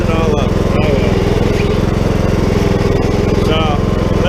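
A lawn tractor engine runs steadily close by, a loud, even buzzing drone with a fast pulsing rhythm that holds constant throughout.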